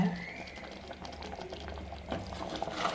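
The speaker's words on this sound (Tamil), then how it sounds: "இப்போ தேங்காய் ஊற்றுனதுக்கப்புறம் நல்லா கொதிச்சிருச்சு" Mutton gravy with coconut bubbling in a pot, a faint, continuous simmering burble with soft pops, close and low in level, no voices.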